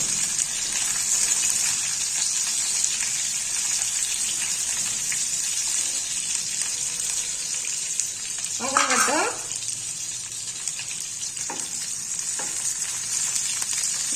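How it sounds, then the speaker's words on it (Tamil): Halved shallots sauté in a pan for Pallipalayam chicken, a steady, close broadband sizzle running throughout, with a brief clatter of stirring midway and a couple of faint knocks near the end. "நூறு பெரிய சின்ன வெங்காயம் ரெண்டு ரெண்டாக கட் பண்ணி வச்சுருக்கேன் இதை நல்லா வதக்கி கொடுத்துக்கலாம்"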